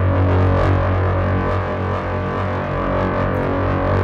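Heavy, dirty distorted FM synth bass from Ableton Drift, a thick sustained buzzing drone with a gritty, saturated low end that holds steady and loud throughout.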